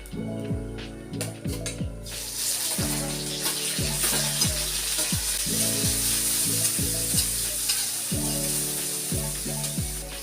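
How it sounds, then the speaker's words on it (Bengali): Panch phoron spices and chopped onion fry in hot oil for an egg and mushroom curry, giving a steady, close sizzle that runs the whole time under a rhythmic background tune. "তেল গরম হয়ে গেছে, অল্প পরিমাণ 5 ফোড়ন দিয়ে দিচ্ছি।"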